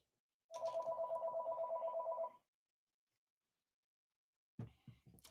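A phone rings once in a single long trilling burst in an otherwise quiet room, then a voice briefly speaks.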